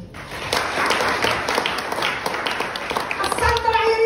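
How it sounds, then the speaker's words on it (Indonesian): A church congregation at a Christmas sermon breaks into clapping, a broad patter of many hands, with voices talking over it and a brief tonal sound near the end. "Berikan tepuk tangan kita."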